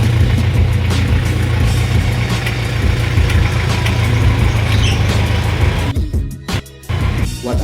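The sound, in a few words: 1993 Daihatsu Taft car driven into the garage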